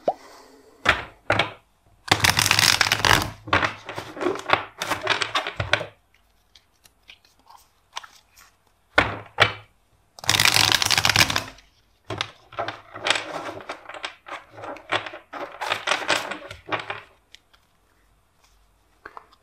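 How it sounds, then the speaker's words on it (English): Bursts of riffling and shuffling tarot cards, several separate shuffles with quiet gaps between, close and crisp. "Let's do four shuffles."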